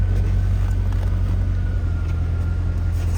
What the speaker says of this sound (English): it's got the Magnaflow exhaust on it. It's got a nice throaty sound to it